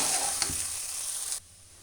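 Vegetable pulao ingredients stirred in a hot pan give a steady close sizzle with a scrape of the spoon, cutting off abruptly near the end into quiet.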